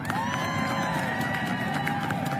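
A crowd at a political event in support of USAID staff cheers and claps, producing a steady, dense roar of voices and applause that holds evenly for the whole stretch.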